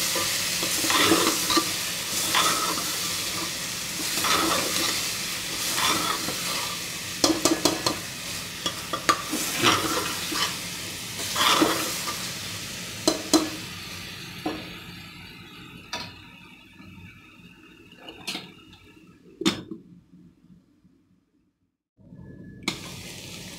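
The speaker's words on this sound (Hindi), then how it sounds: "फिर से एक बार इसको अच्छे से हम चलाएंगे।" Arbi and nenua mixed sabzi with garam masala is stirred in a pan, with a loud sizzle and repeated scraping, clinking spoon strokes. The frying fades over the last stretch, leaving scattered clicks and a brief near-silence.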